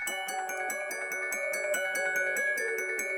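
A bright bell-like synth tone plays a steady melodic pattern of repeated struck notes with sustained harmonic ringing, no voices.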